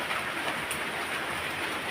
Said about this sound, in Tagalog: Walang ganitong ulan na parang tik-tik na dire-diretso.